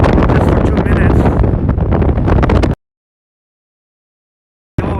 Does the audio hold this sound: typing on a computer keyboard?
no